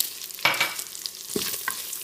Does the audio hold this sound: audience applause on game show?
no